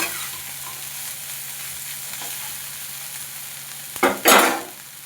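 Vegetables fry in a pan with turmeric and chili powder, giving a steady close sizzle that swells near the end into short bursts of stirring and louder crackling.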